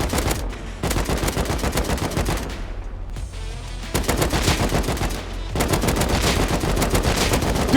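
Sustained bursts of rapid gunfire ring out from a tugboat in a survival video game, loud and continuous with short lulls, with no talking.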